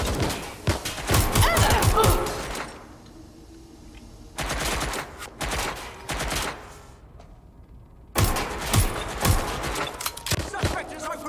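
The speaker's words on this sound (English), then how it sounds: "Suspect has opened fire!" Gunfire in the video game Watch Dogs Legion: loud bursts of rapid automatic shots in three clusters separated by quieter gaps with game chatter and ambient noise, a character's voice heard between volleys.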